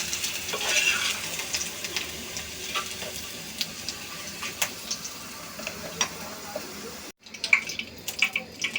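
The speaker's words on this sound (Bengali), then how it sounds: "আলুটা এখন ভেজে নিচ্ছি।" Potatoes fry in a pan for a home-style Bengali katla fish curry with potato and eggplant, giving a steady close sizzle with light stirring clicks; the sound breaks off briefly near the end and then resumes.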